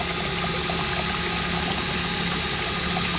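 A cheap battery-powered cordless drill drives a boat's outboard motor. It gives a steady, continuous whirring drone with water churning underneath, close and even throughout, and no speech is heard.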